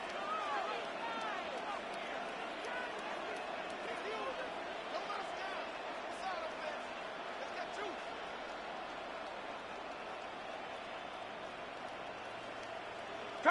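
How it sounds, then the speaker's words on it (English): Stadium crowd in an American football video game roars in a steady, unbroken wash of cheering that stays loud and even throughout, with no clear peaks or lulls. "Crowd love Yeti. Crowd love Yeti."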